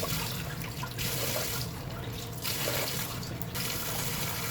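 Steady stream of water pouring into a pot for cooking black rice, a continuous splashing gush that rises and falls slightly in tone, close by.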